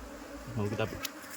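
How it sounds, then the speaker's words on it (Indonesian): A short burst of close, intense buzzing from aggressive Asian honey bees (Apis cerana) during hive relocation, dense and agitated, with a brief sharp knock near the end. "lebah sangat agresif"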